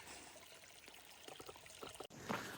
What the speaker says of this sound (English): Gotta get these bottles full